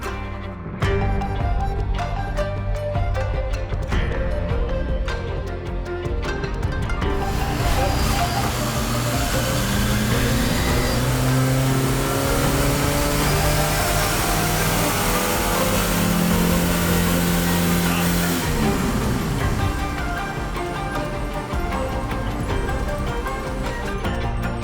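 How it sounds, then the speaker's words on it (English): Car engine revving hard on a chassis dynamometer during a wheel-horsepower pull, running on its existing in-service engine oil; a loud, sustained roar rises and climbs steadily for about twenty seconds before easing off. "So first we're gonna dyno the car with the oil that's already in it."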